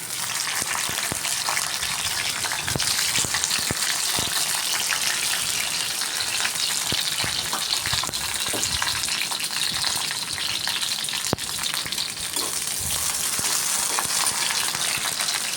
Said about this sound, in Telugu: పచ్చిమిర్చి వేపేసుకుందామండి తర్వాత పచ్చిమిర్చి వే వేయించేసుకుని పక్కన పెట్టేసుకోవాలి